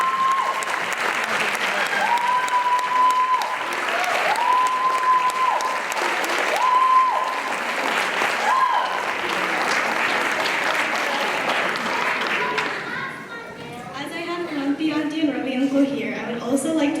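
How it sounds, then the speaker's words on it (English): An audience at a Bharatanatyam rangapravesam gives sustained, full applause for about twelve seconds, with a voice speaking through part of it. It then drops away as talking continues alone. "Can we all give a big round of applause for our guru Sarita?"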